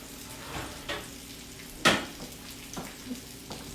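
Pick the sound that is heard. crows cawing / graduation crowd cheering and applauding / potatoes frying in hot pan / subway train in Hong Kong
potatoes frying in hot pan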